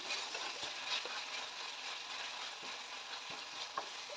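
Tomato chutney cooking in a pan gives off a steady low sizzle, with several soft scrapes and clicks of stirring scattered throughout; no one speaks.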